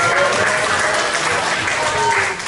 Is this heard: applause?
yes